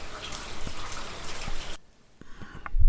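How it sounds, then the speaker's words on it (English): Extremely light rain falls with almost no wind during Hurricane Ian in Osceola Hills, a steady soft patter with scattered nearby drips that drops almost to silence partway through, then resumes. "No vendors, just the sound of rain."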